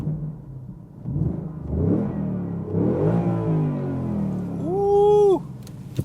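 A Ford Mustang Mach 1 V8 engine revs up and rises in pitch, loud and close, its rumble climbing to a sustained high-revving whine before dropping off.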